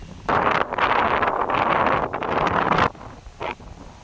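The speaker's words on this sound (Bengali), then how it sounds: "তো দেখুন প্রচণ্ড ঝড় হচ্ছে আর এখানে প্রচুর পরিমাণ বাতাস।" Strong gusts from Cyclone Remal batter a phone mic in Ashashuni, Satkhira, on the Bangladesh coast: loud, roaring wind buffeting in sustained bursts, then a sudden drop to a quieter lull with one short gust near the end.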